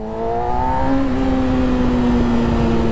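A 2020 Yamaha YZF-R6 motorcycle engine runs with a close, loud, steady droning hum, its pitch shifting slightly at first and then holding even.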